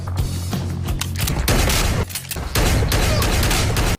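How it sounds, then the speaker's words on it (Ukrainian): A Turkish-made copy of a Benelli M4 12-gauge shotgun fires loud, close shots in a rapid, irregular series, each a sharp blast, with brief pauses between bursts. "А в нас на черзі 12-й калібр, також е, виробництво Туреччини, копія Бенелі М4, так 12. Погнали з неї стріляти."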